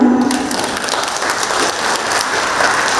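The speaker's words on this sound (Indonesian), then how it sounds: "Kita berikan tepuk tangan" Audience clapping at the opening ceremony of a government procurement training and certification event, a steady rain-like patter of many hands filling the hall.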